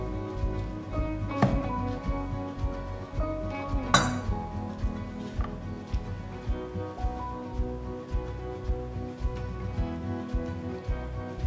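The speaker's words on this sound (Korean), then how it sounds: "반 정도 썰어서 접시에다 담아줄게요" A knife clinks sharply against a plate twice, followed by soft scraping and light handling as a crispy perilla leaf and chive pancake is sliced in half and plated, in a kitchen with background hum.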